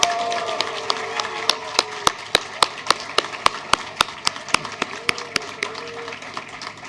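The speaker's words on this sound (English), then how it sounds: "I want you all to also say thank you to our lecturers by a round of applause, please." Graduation audience at a University of Suffolk ceremony clapping for lecturers, a steady bed of crowd applause with sharp individual claps standing out close by, continuing evenly throughout.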